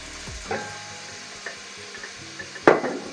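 Minced meat stews with onion and mushrooms in a pan, giving a soft sizzle with occasional scraping stirs and a louder clatter of a utensil against the pan near the end.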